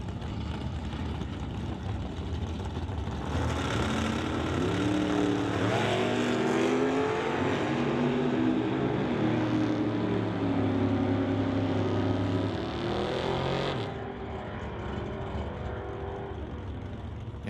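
Two drag racers, the old Yeller 4 car and a Chevy pickup, rev and launch in a non-electronic bracket race, engines roaring loudly with rising gear pulls for about ten seconds before cutting off, leaving lower background engine noise.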